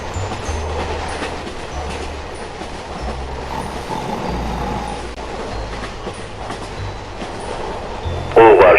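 A passenger train, Express No. 6 in a horror game, runs on its rails with a steady close rumble and rhythmic low clacking of wheels throughout, and a sharper burst of noise near the end.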